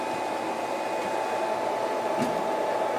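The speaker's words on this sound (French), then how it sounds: "il faut que je démarre la broche puisqu'elle n'est pas en démarrage automatique sur cette machine" CNC 6040 router spindle motor running at steady speed, a constant high whine with a broad airy hiss like a hair dryer, even and close throughout.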